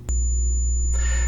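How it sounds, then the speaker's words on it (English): SMPTE two-tone intermodulation distortion test signal: a steady low tone paired with a thin high tone, loud and continuous, with a slight change in character near the end. "and also SMPTE two-tone tests, which sound like this"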